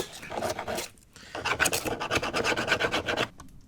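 Close, rasping scrapes as mold lines are shaved off 3D-printed terrain, a short stroke followed by a rapid series of scratchy rubbing passes, with no talking.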